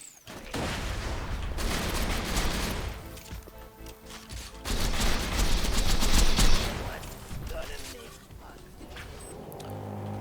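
Repeated shotgun blasts in Borderlands 3 fired at a rat enemy, loud and dense in two long bursts, with game noise and a voice talking over parts of it.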